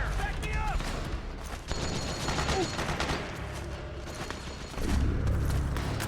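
Bursts of suppressing gunfire in the Metal Gear Solid 4 video game crackle through a busy battle, with rapid shots, mechanical clatter and shouting voices.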